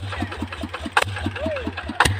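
A heavy ZT 155 diesel engine on a loaded cassava truck chugs and strains with a steady low rumble, broken by two sharp bangs from machinery nearby.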